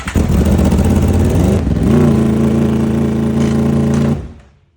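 An Aprilia SV4 motorcycle engine starts up and runs loud and close, its steady drone shifting pitch as the throttle is blipped partway through, then cutting off near the end.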